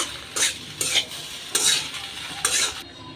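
A spatula stirs noodle masala into pasta in a sizzling pan, four distinct scraping strokes spaced roughly half a second to a second apart over a low frying hiss, close and clear with no talking.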